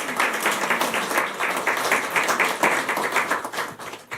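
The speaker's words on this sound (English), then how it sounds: "So could we give the Guyana Revenue Authority a round of applause?" An audience applauds at the opening session of a conference, steady moderate clapping from a crowd lasting several seconds, slightly distant and without voices.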